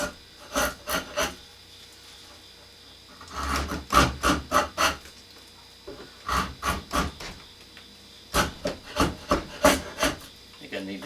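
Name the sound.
sharpening an old draw knife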